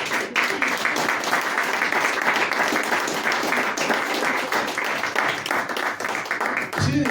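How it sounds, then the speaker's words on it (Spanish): A church congregation claps together in praise at a sermon, a dense, loud, steady clapping that runs nearly unbroken and stops abruptly at the end. "Den una ofrenda de palmas al Señor."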